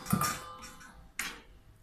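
A knife slices a boneless fish into strips for a fish and carrot terrine, giving two faint, separate cutting strokes with quiet pauses around them.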